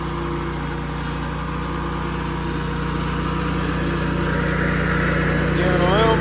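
An Oscar 336-35 portable sawmill engine runs steadily and loudly at close range during a log cut, its hum gaining a little speed toward the end.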